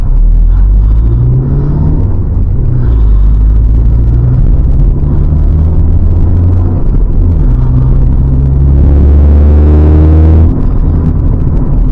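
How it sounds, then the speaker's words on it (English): A 1998 Honda Civic DX five-speed with an aftermarket intake rumbles deeply while driving. The engine note rises and falls through the revs, loud and close, with no voices. "one of my favorite things about this car is how it sounds with that intake"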